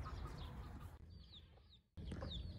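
Chickens cluck and murmur on a farm where hens have fresh chicks, a steady close flurry of soft fowl calls under a constant outdoor background that briefly thins before returning.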